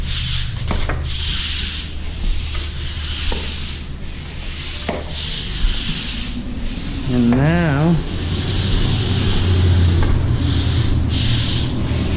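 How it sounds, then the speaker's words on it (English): A broom scrubs across a garage floor during an epoxy job, a steady rough rubbing hiss that continues throughout with brief pauses and a short tonal squeak partway, recorded up close. "gotta scrub. Gotta scrub really, really good."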